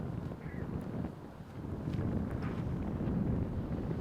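Wind blowing across an outdoor disc golf course in Las Vegas, a steady low roaring rush that buffets the microphone and swells louder in the second half, with no voices.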